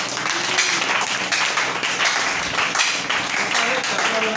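A congregation claps in a church service, making loud continuous dense applause throughout, mixed with speech and crowd voices.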